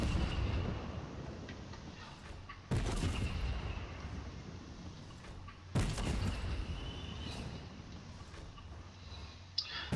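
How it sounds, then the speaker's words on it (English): Tank cannon blasts in Fortnite, two heavy booming explosions a few seconds apart with a rumbling, crackling tail, plus a smaller pop near the end, loud and close with no voices. "And all I'm doing is sitting here with a tank and blowing stuff up."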